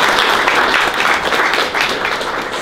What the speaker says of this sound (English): give a round of applause for our coaches.